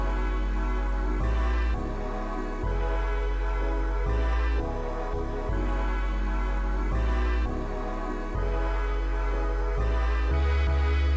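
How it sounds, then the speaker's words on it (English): Drum and bass melodic pads played on an Amigo sampler with chorus, sustained rich chords shifting in a steady repeating pattern with a deep bass line underneath, continuous and moderately loud with no voices. "So altogether, the melodic elements sound like this."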